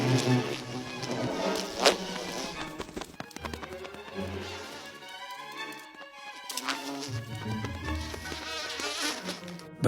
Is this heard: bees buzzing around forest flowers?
yes